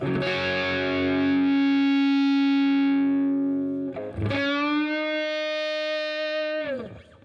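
An electric guitar holds a long, steady note that swells with sustained feedback from Blue Cat Audio's AcouFiend plugin, then another sustained note rings on before cutting off.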